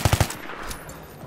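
Gunfire in a competitive shooter video game, three quick sharp shots in a rapid burst at the start, then a fading echo and quieter background, with no talking.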